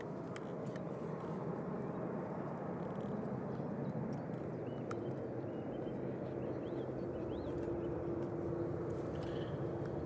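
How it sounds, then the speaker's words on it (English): A Saudia Boeing 787-10 Dreamliner in retro livery heads out at Manchester Airport, its steady broadband jet roar holding constant and moderately distant throughout, with no voices. "It's a long one, it's a 787-10 Dreamliner."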